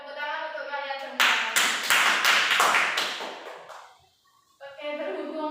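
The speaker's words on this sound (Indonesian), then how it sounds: "Tepuk tangan untuk kalian semua." A classroom of students bursts into brisk, rhythmic clapping for about three seconds, close and loud, between stretches of someone speaking before and after.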